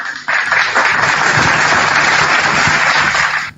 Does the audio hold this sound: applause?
yes